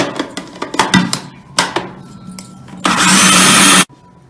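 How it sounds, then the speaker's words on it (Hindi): An electric chopper whirs in short pulses and then runs in one continuous burst near the end, grinding a flaxseed mixture with sugar for alsi pinni laddu. It is loud and close, with rattling bursts before the sustained run stops abruptly. "और इसको दोबारा 1 मिनट के लिए चॉप करना है।"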